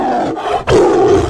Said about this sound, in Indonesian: Tiba-tiba suara eraman harimau putih yang menggelegar memecah keheningan tersebut.